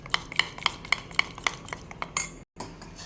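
A spoon scrapes and clinks against a pot while stirring a milk porridge mixture, in a quick run of sharp, regular taps followed by a brief scrape and a short gap.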